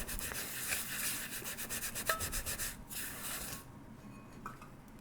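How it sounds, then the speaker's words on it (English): Abrasive scrubber worked with water and cleanser over fired metal clay pieces, giving close, rapid rhythmic rubbing and scratching strokes that stop partway through, followed by faint quieter handling. "I'm going to use an abrasive scrubber to scrub that out"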